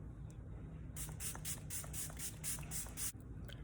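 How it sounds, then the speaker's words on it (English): A Mented Better Setter setting spray mists out in a quick series of about eight short, airy pumps, faint and close, with quiet room tone before and after. "This is the Mented Better Setter Setting Spray."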